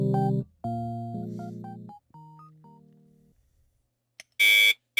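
An alarm clock in a visual novel video game sounds off with synthesized electronic tones, first a descending run of sustained notes and then a short, loud, bright burst of beeping, with no talking.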